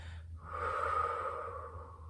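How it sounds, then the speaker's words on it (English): One long, slow, audible exhale during mindful breathing practice, close and soft, swelling and then fading over more than a second with no talk. "So I'm going to exhale."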